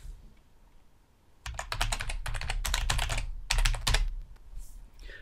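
Typing on a computer keyboard while entering a package title, a close, steady run of rapid key clicks that starts after a quiet moment, pauses briefly, then resumes before fading.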